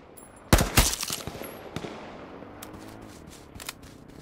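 Gunfire in the battle royale game H1Z1: a loud burst of several close shots early on, then scattered fainter, more distant cracks over a dim ambient background.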